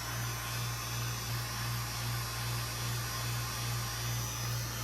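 A vacuum pump for carbon fiber vacuum infusion runs steadily with a constant droning hum and hiss, close and unbroken throughout with no talk.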